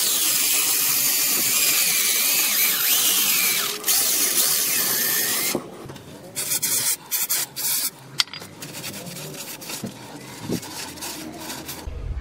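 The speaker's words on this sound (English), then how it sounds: "So you just go to wire wheel and just go ahead and clean all the interior." A wire wheel scours rust from the inside of a wheel hub on a two-wheel-drive Chevy Tahoe, giving a loud, continuous abrasive hiss for about five seconds. Scattered clanks and scraping follow.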